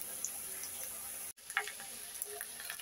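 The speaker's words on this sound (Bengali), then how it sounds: "মাছের ডিম ভাজি করার জন্য আমি আগে কাঁচামরিচ আর পেঁয়াজ ভাজি করে নিতেছি" Green chilies and onions frying in a pan before fish roe is added, a faint steady sizzle with scattered small crackles and pops, briefly cut off midway.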